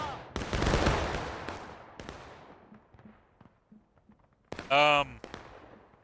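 Captured artillery cannon fire in a Civil War battle game on the Bolivar Heights map, with a big booming blast and a long rolling echo, a few distant shots, then a loud harsh burst near the end.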